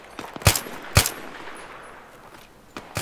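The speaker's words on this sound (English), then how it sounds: "enemy fire coming from 255" Enemy gunfire in the Battlefield 3 Reality Mod game: a handful of sharp, loud shots cracking out at irregular intervals, two close together early and a couple more near the end, over a steady hiss of battlefield ambience, with no talking.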